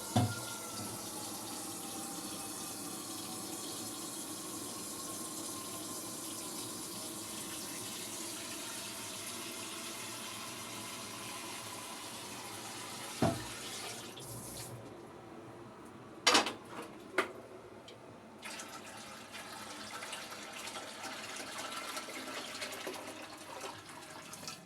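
Water runs steadily from a tap while being fetched for steaming a local otor mboro dish, a continuous rushing stream with a few clinks and knocks partway through before the flow changes.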